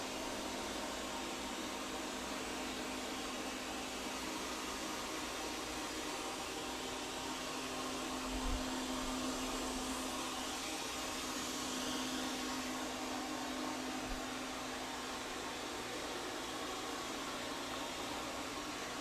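An eufy S1 Pro robot vacuum runs at standard suction while edging along a floor, giving a continuous, fairly quiet hiss and whir with a steady low hum and a couple of faint bumps.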